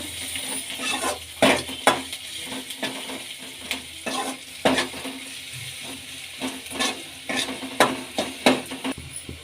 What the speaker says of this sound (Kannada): ಶುಂಠಿ ಬೆಳ್ಳುಳ್ಳಿ ಪೀಸ್ ಬದಲು ಪೇಸ್ಟ್ ಕೂಡ ಹಾಕೋಬೋದು ಎಣ್ಣೆಲೆ ಚೆನ್ನಾಗಿ ಫ್ರೈ ಮಾಡ್ಕೊಳ್ಳೋಣ